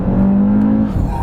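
A 2018 Audi RS3 engine revving hard after a downshift to about 4,500 RPM, a loud, close, sustained drone that holds steady and then drops away.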